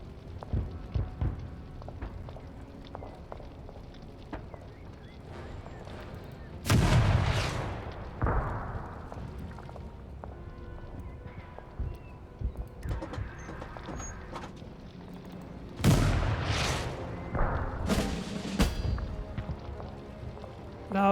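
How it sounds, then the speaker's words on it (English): Artillery fire booms in the World War II tank strategy game Total Tank Generals, Battle of Troina, with two loud blasts about nine seconds apart, each followed by rumbling decay over a quieter background of small battle noises. "Let's see what my artillery can do."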